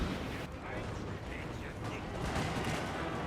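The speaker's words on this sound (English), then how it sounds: "a bit of a gunfight going on here" Musket gunfight in Napoleon Total War, a dense crackle of massed gunfire rolling steadily through the battle din, with a voice faintly present.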